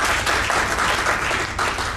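Audience at an IBM CFO Perspectives event in Pakistan breaks into sustained applause, a dense, continuous patter of many hands clapping close by, with faint voices mixed in.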